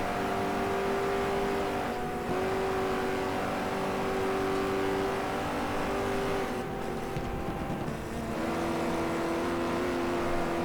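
Race cars roar down a straightaway in the GT Legends racing game, a loud steady engine whine holding high revs, dipping briefly at shifts while other cars blur past; no voices.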